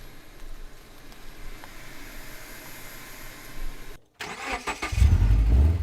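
A Subaru Forester XT engine on a steep, rutted, rocky offroad hill climb hums quietly at first, cuts out briefly, then restarts and surges into a loud, rumbling roar near the end.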